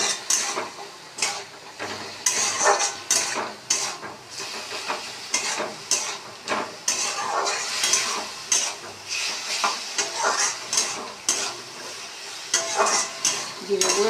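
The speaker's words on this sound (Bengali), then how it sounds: "জিরে গুঁড়ো, একটু হলুদ গুঁড়ো আর একটু নুন দিয়ে ভালো করে কষিয়ে নিয়ে" A spoon repeatedly scrapes and stirs spices with cumin powder, turmeric and salt in a hot pan, steady sizzling frying under rhythmic stirring strokes, close and fairly loud throughout.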